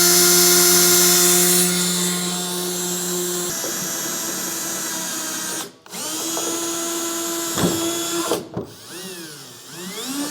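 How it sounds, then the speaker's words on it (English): A power drill with a 13/64-inch bit whines steadily at close range while pre-drilling a hole to mount an access ladder inside an enclosed trailer, pausing briefly a couple of times and revving back up, with no talking. "So I am going to drill this out, just pre-drill"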